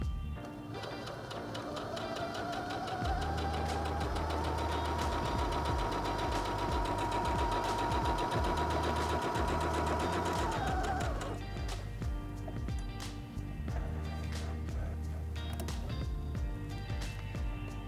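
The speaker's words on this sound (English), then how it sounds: "step on the foot control to start sewing" A Heavy Duty 6800C sewing machine stitches through fabric in one steady, loud run of rapid needle chatter with a whirring motor tone. It lasts about seven seconds and then stops, leaving the machine idling quietly.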